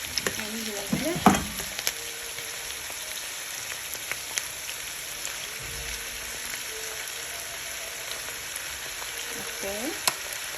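Vegetables sauté in olive oil with salt, a steady close sizzle and frying crackle with occasional stirring scrapes and clatters of a utensil against the pan.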